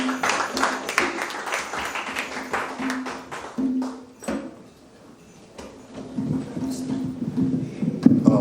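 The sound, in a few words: audience round of applause for a poet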